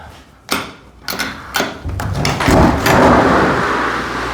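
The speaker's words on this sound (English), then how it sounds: "a full door frame that opens up for larger projects" A full-height workshop door frame swinging open, several sharp knocks and latch clacks followed by a longer sliding, scraping rush as the frame moves, close and loud with no talk.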